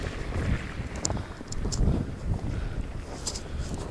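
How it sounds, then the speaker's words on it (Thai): Strong wind in a snowstorm in Denmark roars and buffets against the microphone in uneven, rumbling gusts throughout, close and loud, with no one speaking. "ลมแรงมากเลยนะคะทุกคน"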